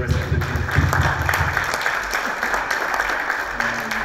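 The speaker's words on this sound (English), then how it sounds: "So can we get a round of applause for George and the rest of the team?" An audience at a blockchain regulation and investment panel claps in a sustained round of applause, dense and steady throughout, with a voice faintly mixed in.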